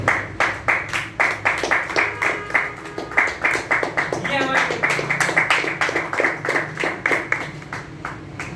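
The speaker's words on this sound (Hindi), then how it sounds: "इनके लिए जोरदार क्लैपिंग" Audience clapping at a Hindi business seminar: rhythmic, evenly paced claps in unison from a group, close and clear, briefly joined by a voice midway before the beat resumes.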